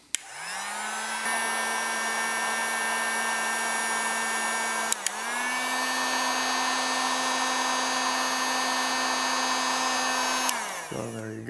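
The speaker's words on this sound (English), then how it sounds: "We'll go ahead and stick it on there, and then using a heat gun" Heat gun blowing steadily to shrink heat shrink tubing over a crimped wire connector, a loud continuous whoosh with a fan hum that dips briefly midway and then cuts off near the end.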